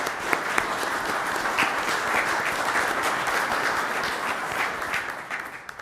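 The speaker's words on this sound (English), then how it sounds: "Can we have a big round of applause for this heavy-hitting panel today" Dense, steady audience applause for a panel at a cybersecurity forum in Mississauga, many hands clapping together at close range and sustained at an even level for about six seconds, with no talking.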